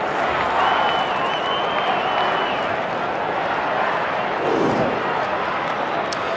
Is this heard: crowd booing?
yes